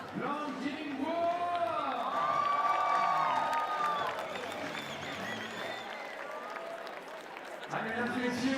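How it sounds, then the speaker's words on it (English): Audience applause and cheering for the medalists at a climbing speed finals event in Villars, a broad sustained clatter of clapping with crowd noise that swells, then eases near the end, with a voice and whoops mixed in. "on les applaudit bien fort"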